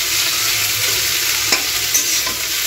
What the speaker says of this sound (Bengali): দিয়ে এবার ভালো করে নেড়ে চেড়ে ভাজা করতে হবে।